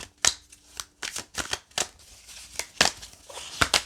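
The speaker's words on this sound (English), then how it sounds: "Let me fix this deck and start to shuffle" A deck of tarot cards being shuffled by hand, close up, with repeated soft riffling and slapping bursts in an uneven rhythm.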